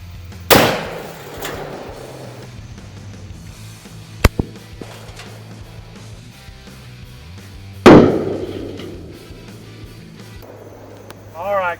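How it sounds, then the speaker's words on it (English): A magnum revolver fired one-handed at cinder blocks outdoors, two loud sharp gunshots several seconds apart, each with a ringing echo, plus smaller impact clicks and brief talk. "Same thing, shooting it one-handed."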